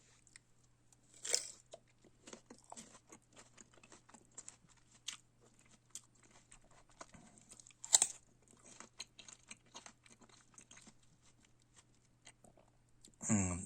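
A firm winter pear is bitten and chewed up close, with a crisp crunch at the first bite and a second loud crunch mid-way, then a steady run of soft wet chewing clicks.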